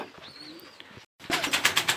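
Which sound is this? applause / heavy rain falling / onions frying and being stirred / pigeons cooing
pigeons cooing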